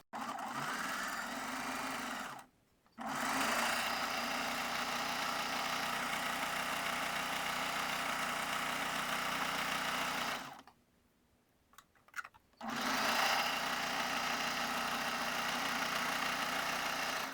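Sewing machine running steadily while laying a second line of stitching along the top edge of a lace bust, above the lower elastic where nylon has been trimmed; a long continuous whir broken by two brief pauses, close and alone.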